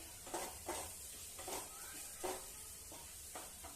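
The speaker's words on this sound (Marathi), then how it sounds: "आपण हा कांदा चांगला गुलाबी रंगावर परतून घेऊया" Onion sautés in a pan for a potato and cowpea curry, with soft, steady sizzling under rhythmic stirring scrapes that come about twice a second, close and fairly quiet.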